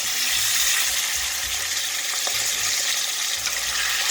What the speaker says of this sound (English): I'm going to cook it for about 2 minutes on each side.